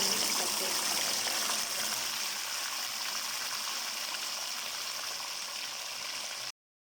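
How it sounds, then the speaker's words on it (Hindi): Milk-soaked bread pours into hot sugar syrup in a pan for bread halwa, giving a continuous soft hissing, bubbling wash that cuts off abruptly. "अब हम इसमें डालेंगे ब्रेड और दूध जो कि हमने मिक्स करके"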